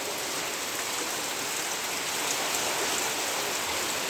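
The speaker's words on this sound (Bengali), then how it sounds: "আর কন্টিনিউয়াসলি বৃষ্টি পড়তেছে, আরও পানি বাড়তেছে" Continuous rain pours steadily onto a flooded street in a town, a dense, even hiss of drops on water with no pauses and no voices.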